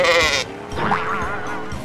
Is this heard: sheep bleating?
yes